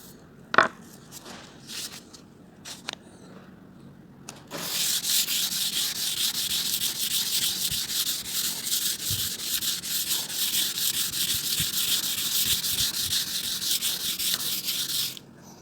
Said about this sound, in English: Using fine, coarse sandpaper and sharp blades, I smoothed the surface until it was absolutely flawless.